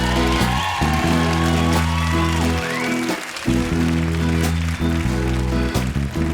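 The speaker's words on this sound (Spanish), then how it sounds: "El aplauso fortísimo para David García." An outdoor crowd in a town square applauds and whoops at a live band concert, loud sustained clapping with shouts, while a low sustained musical tone hums beneath.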